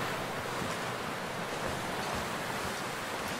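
Wind rises in the survival video game The Long Dark, a dense, steady roaring rush of broadband noise like gusting air or surf, continuous and fairly loud with no voices.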